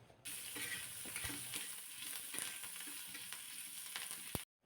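Sliced green chillies crackle in hot oil with cumin and curry leaves for a dahi tadka, making a steady, close sizzle. Light stirring clicks sound throughout, and the sizzle cuts off abruptly near the end.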